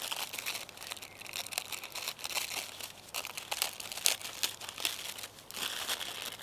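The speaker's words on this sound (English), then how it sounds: "what I'm gonna start off by doing is just cutting the strips using my scissors" Scissors slicing paper into strips for an at-home art craft, a steady run of crisp, close snips and crinkly rustles lasting several seconds.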